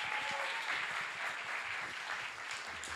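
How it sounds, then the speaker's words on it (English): Applause from a conference audience welcomes a speaker to the stage, a dense, steady clatter of many hands clapping at close range for the full few seconds. "please, a round of applause"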